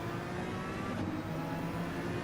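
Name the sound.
race car engine passing cars, video game Gran Turismo 7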